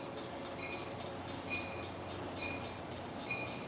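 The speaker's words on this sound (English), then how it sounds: "it's a real CT locomotive this time" A CT locomotive train rolling past at a distance, a steady low rumble with faint periodic high squeals from the wheels, no voices.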